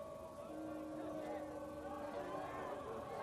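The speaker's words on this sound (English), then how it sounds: "you can hear some boos from the Spartans crowd here" Spartans fans boo from the crowd at a men's lacrosse game, producing a faint, sustained, wavering drone of many voices heard at a distance under a general crowd murmur.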